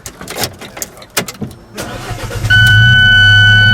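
A 2015 Alfa Romeo 4C Spider starts up after a few clicks and rustles, the engine catching with a loud burst and settling into a steady, close idle with a high whine.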